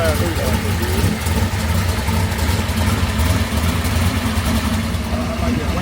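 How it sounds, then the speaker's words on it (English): Race car engine idling at a shop, a loud, steady low rumble that holds without a break from start to end, with voices talking over it. "That race car shit right there."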